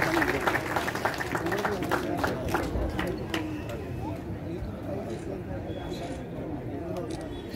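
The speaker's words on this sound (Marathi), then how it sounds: "तर आपण सगळ्यांनी टाळ्या वाजवून" Audience applause at a book launch held during a Kadam (Maratha) clan gathering: dense, broadband clapping that is loudest at the start and gradually thins, mixed with crowd murmur and voices.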